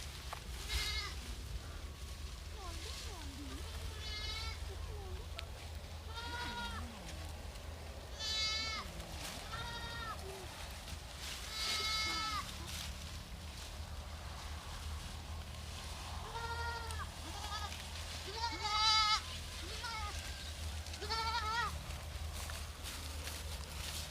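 Goats bleat repeatedly at a grass-fed grazing farm, several animals calling in short wavering cries near and farther off over a steady low background hum, with faint rustling between calls.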